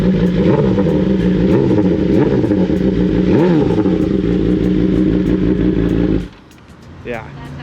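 A new BMW motorcycle engine is revved with a few throttle blips, the loud rising and falling engine note running steadily for about six seconds before cutting off abruptly, with a brief voice after.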